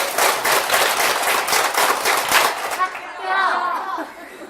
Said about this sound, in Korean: 자, 박수 크게 10번 치고 합격을 외쳐보겠어요.